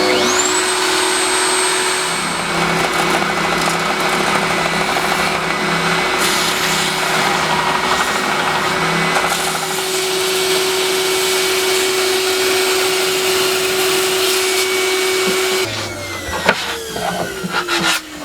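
A router cutting wood on a router table gives a loud, continuous high whine with a steady tone for about fifteen seconds, then winds down with a few clunks.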